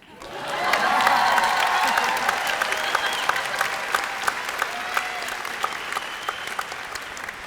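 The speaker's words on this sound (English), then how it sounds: "You can clap now." A large audience applauds steadily at a university commencement ceremony. The applause is a dense, sustained wash of many hands that swells quickly and holds, with a few sharper claps standing out.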